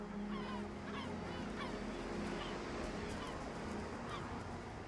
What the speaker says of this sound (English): A gull settles for a less than ideal nesting location.